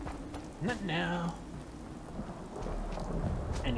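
Rain and thunder in the Fallout 4 video game, a steady wash of rainfall with a low rumble of thunder. A voice briefly talks over it near the start.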